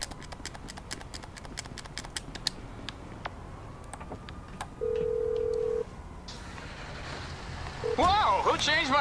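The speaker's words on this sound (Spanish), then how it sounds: "Wow, who changed my ringtone?" A mobile phone in Grand Theft Auto V beeps a brief electronic tone and then plays a ringtone amid clicking in-game sounds, with someone talking over it near the end.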